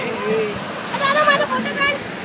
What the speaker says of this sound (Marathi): मस्त पैकी पाणी जाम जोरान वाचतोय धबधब्याचा